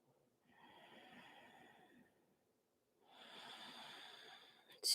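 Two slow, deep breaths taken in a yoga forward bend, each a soft airy inhale or exhale lasting about two seconds, quiet and close, with a pause between them.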